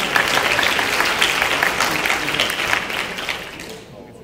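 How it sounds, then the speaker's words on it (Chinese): A lecture audience gives the speaker a warm round of applause at a live talk, loud dense clapping that holds steady and then fades out toward the end. "我们见到本尊，我们再给他一个热烈掌声好吧"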